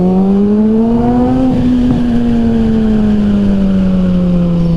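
A 1000cc sport motorcycle pulls hard on an open straightaway, its engine note loud and steady with a slowly rising then easing pitch, wind roar underneath throughout.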